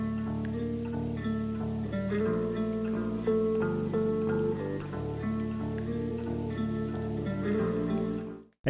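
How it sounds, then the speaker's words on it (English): Steady rain patter woven through an electronic music track, the Monstercat release Vagrant by Mazare & Young Medicine, sitting continuously beneath sustained synth chords and bass for the whole stretch, with no voices. "There's also this atmosphere of rain in the background"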